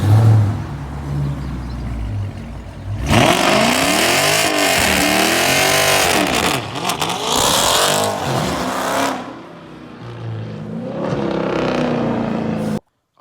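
A loud Dodge Charger Scat Pack V8 exhaust revs hard in several surging bursts, rising and falling pitch, close by, with quieter idling between.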